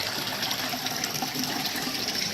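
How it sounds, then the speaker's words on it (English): Water from the standpipe discharge of an indoor aquaponic cart with a bell siphon pours and bubbles into the main fish tank, a steady close rushing gush with no talk. "all that water that is just roaring into the main fish tank"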